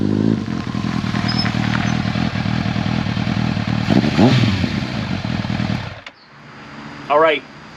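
A retro superbike, a Honda CB1100 or Kawasaki ZRX1100, drones loudly and steadily with a rising rev midway, then cuts away abruptly near the end, leaving quieter background and a brief high chirp.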